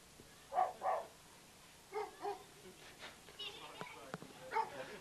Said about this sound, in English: There is a real dog here.